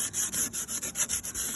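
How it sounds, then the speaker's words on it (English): Sandpaper rubbed by hand along the wood trim of a VW T4 camper van, in quick rhythmic back-and-forth strokes, about a dozen in under two seconds, close and fairly loud with no talking. "just run in sandpaper along it"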